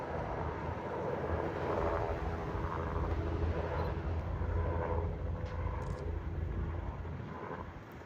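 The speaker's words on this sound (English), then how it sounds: "There's the twin otter turning on runway 2" A NOAA Twin Otter twin-engine propeller airplane drones steadily at a distance while turning on the runway at Hagerstown, a continuous low rumble lasting several seconds, with no voices.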